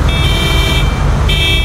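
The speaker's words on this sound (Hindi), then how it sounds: "ठीक है मैं 3 हॉर्न मारूंगा" A car horn in GTA 5 honks loudly in two long blasts, separated by a short gap, over a steady engine rumble.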